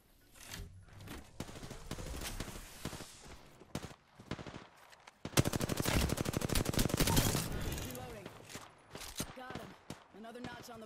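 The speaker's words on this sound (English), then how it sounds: "I'm still taking fire." Gunfire in the battle royale game Apex Legends, played as Bangalore: scattered shots build into a long, loud automatic burst in the middle, then trail off into sporadic cracks, with a voice briefly heard at times.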